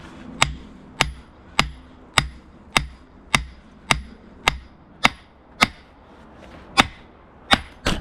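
A hammer strikes a metal wedge driven into a piece of wood, about a dozen sharp, evenly spaced blows in a steady rhythm, close and distinct.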